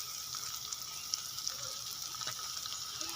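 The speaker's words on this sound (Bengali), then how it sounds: "পেঁয়াজটা একটু ভেজে নিচ্ছি" Chopped onion with turmeric powder frying in a pan gives a steady, soft sizzle and crackle close by, low in level and continuous throughout, with no talking.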